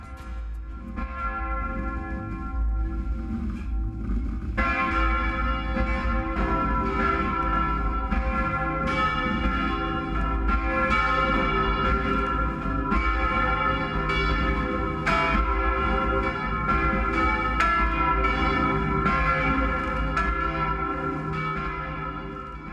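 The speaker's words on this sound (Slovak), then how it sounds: "Posledný zvon, Svätá Barbora, je zdobený rastlinnou dekoráciou" Church bells in Trnava ring continuously, several bells overlapping in a dense, loud, sustained peal with repeated strikes and long ringing tones, no voices.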